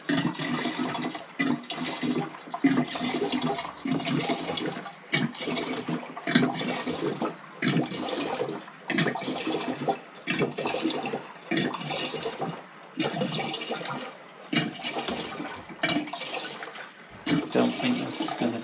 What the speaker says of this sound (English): without spilling any, hopefully, fill this thing with a certain amount of diesel